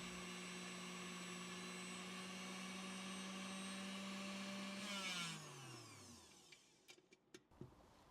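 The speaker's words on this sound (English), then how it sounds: "Beat 200 grams of semi-frozen whipping cream with high speed of electric mixer to become thick and" Electric hand mixer whipping 200 grams of semi-frozen whipping cream at high speed, a loud steady motor whine that runs for about five seconds, then winds down and stops, followed by a few faint clicks and knocks.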